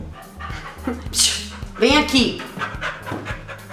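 A mixed-breed dog pants rapidly nearby while a woman calls out to it; light whimpering sounds mix in.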